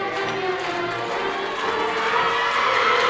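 A loud, sustained crowd roar and cheering fills a high school gym during a deciding game 5 of a Lynn Classical versus Beverly volleyball match, growing slightly louder toward the end.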